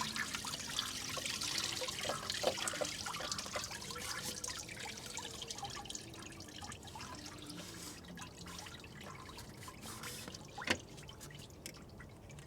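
Coolant from a Lexus LS430 draining and dripping into a can, heard as a steady trickle with scattered splashing drips and one sharper splat near the end.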